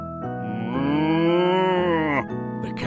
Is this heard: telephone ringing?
no